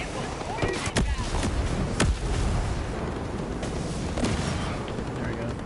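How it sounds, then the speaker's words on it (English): Incoming mortar fire in the video game Ghost Recon Breakpoint: repeated heavy booms and blasts over a dense, roaring battle bed, with voices mixed underneath. "Hostile mortars on the way."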